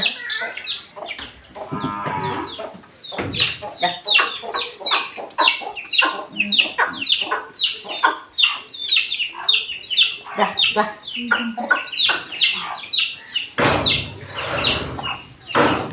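Chickens cluck repeatedly nearby in short bursts, with one louder squawk near the end, and no talking.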